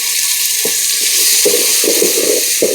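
Browned onions hiss and sizzle loudly in hot oil as ginger, garlic and black pepper pastes go into a Bengali beef curry. A spoon scrapes and stirs the pan in a few soft knocks.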